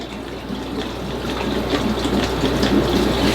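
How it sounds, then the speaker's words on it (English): Tap water runs steadily into a brackish aquarium tank at a slow flow, a continuous gentle gush that grows slightly louder, with no voices. "I do have the water turned down pretty slow, just so that it's not dumping a bunch of water in there"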